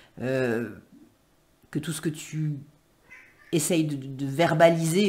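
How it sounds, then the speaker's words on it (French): A small cat meows once or twice, close and clear, while someone speaks softly in French over and between the calls. "Ah, j'ai un miaou d'un petit chat."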